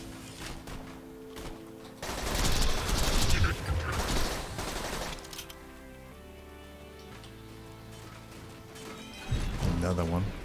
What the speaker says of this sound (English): Bonehead grenade, more than likely